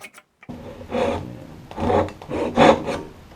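Hand saw cutting wood for a dovetail joint, three rasping strokes in steady rhythm after a brief pause, close and moderately loud with no talk.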